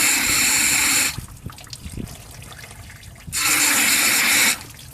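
Coolant is flushed out of a Mitsubishi Lancer engine block, heard as two loud bursts of gushing water separated by a quieter trickling pause, close by.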